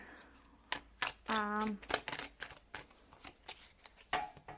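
Tarot cards shuffled by hand in a quick riffle of crisp flicks and slaps, close and fairly quiet, set among soft handling sounds and murmuring speech.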